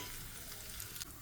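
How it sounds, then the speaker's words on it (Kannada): Mustard seeds, dried chili and asafoetida crackle and sizzle in hot oil for a tempering, a dense, close, steady hiss with no talk. "ಸಾಸಿವೆ, ಒಣಮೆಣಸು ಮತ್ತು ಇಂಗು ಸೇರಿಸಿ ಒಗ್ಗರಣೆ ಮಾಡ್ಬೋದು."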